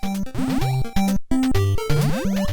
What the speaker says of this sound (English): that's the sound of the platform sinking